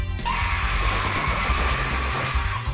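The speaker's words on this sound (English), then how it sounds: "this plant that lets out the most blood-curdling scream I've ever heard" A screaming plant in the video game Castlevania Rondo of Blood lets out a loud, harsh, continuous shriek that holds steady for nearly three seconds over dense game noise.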